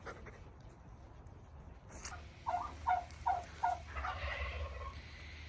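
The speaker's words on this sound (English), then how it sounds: "The 2 gray blue slate turkeys, Alice and Phyllis." Two gray-blue slate turkeys named Alice and Phyllis gobble in a muddy, snowy farmyard, a quick burst of four or five rapid, fairly close gobbles over low outdoor background noise.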